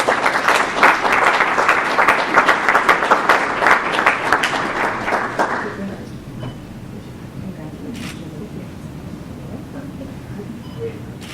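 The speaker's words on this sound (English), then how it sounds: "You clap again." Audience applause for a student award at a Westerville Central High School recognition ceremony: dense, loud clapping for about six seconds, then fading to scattered claps over a low room murmur.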